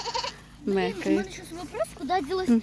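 A goat bleats several times in quick, wavering cries in a village, close and fairly loud, with short pauses between calls.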